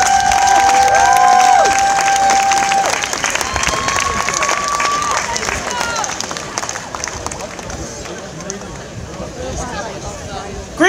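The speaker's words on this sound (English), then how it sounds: "A big round of applause, please." An audience at a community centre event claps and cheers loudly, with whistles and shouts rising over a dense, continuous wash of applause that slowly fades.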